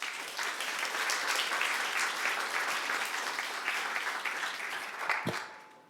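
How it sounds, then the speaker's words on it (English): A conference audience at a tech team leadership event applauds after a presentation, a dense burst of clapping that fades out after about five seconds. "Applause."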